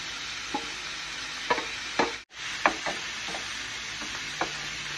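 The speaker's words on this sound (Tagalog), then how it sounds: "add na natin yung ating spinach" Spinach stirred into a pan where chicken breast has just cooked, a soft steady sizzle broken by several scraping stir strokes and one brief quiet gap partway through, close up with no talk.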